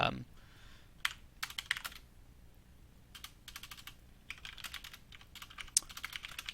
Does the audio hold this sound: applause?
no